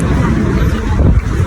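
Strong, cold wind blowing hard against the microphone outdoors in Hong Kong, a steady loud roar and rumble with gusts throughout the short stretch.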